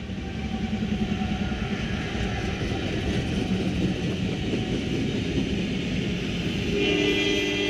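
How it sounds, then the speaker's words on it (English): A long intermodal freight train with several locomotives sits at a railroad crossing on the NS Fort Wayne Line, giving a steady low rumble and engine drone at moderate distance that swells slightly near the end, with no talking. "this train is still sitting here blocking the railroad crossing"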